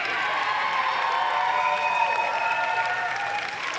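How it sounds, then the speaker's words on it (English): Steady crowd applause fills an arena at a military powerlifting competition, sustained and even throughout with light cheering mixed in. "lots of applause"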